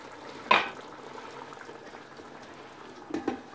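Pot of Hatay-style pumpkin dessert cooking in sugar syrup over medium heat, with soft low bubbling broken by two sharp metallic clinks of cookware, no voices.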